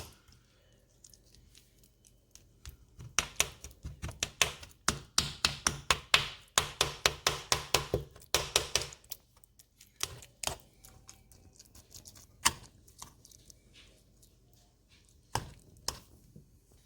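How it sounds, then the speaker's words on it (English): Cooked fish being mushed and mashed by hand in a bowl, a run of quick, close, wet tapping and squishing strokes that bunch together mid-way, then thin out to a few scattered taps with quiet pauses. "We're gonna mush up all the fish now that it's done."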